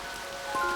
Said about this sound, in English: All I hear is the sound of rain violently pounding against the pavement.